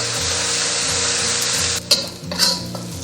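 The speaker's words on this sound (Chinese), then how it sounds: "下入葱姜蒜跟干香菇，炒出香味以后，喷一圈料酒" Stir-frying pork belly with scallion, ginger, garlic and dried shiitake in a hot wok, splashed with cooking wine: a loud continuous sizzle with a couple of spatula scrapes near the end.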